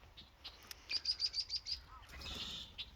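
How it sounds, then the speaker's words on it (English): Outdoors, a bird gives a quick run of about six sharp, evenly spaced chirps, followed by a brief whoosh like flapping wings, with soft rustling nearby. "What's up, birds?"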